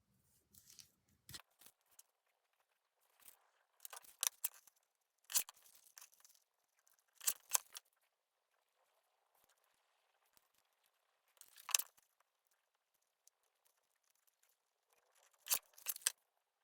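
Scissors trimming two glued-together pieces of collage paper to size, heard as sparse, close snips and crisp paper crinkles in short bursts separated by quiet pauses, with no talking.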